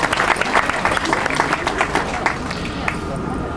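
Passengers applaud aboard a cruise ship during a New Year voyage, a close, lively burst of many hands clapping that gradually thins out toward the end.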